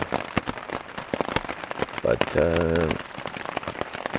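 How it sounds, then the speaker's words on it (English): Steady rain patters on surfaces around a campsite in Algonquin Park, dense crackling drops throughout, with a brief voice and a short tonal sound partway through. "Started raining around the middle of the night, and it's been raining ever since."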